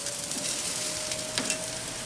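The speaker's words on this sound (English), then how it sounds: "Sizzle is always good. Tells you that the barbecue pit is up to temperature." Chicken sizzles on a hot Masterbuilt 560 gravity-fed charcoal grill at about 350 degrees, a steady, close crackling hiss with small pops and no talk.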